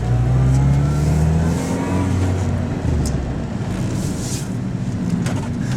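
A 2006 Mini Cooper S swings through a tight turn. The engine revs loudly and close up, then eases to a steady drone, with tire and road noise underneath.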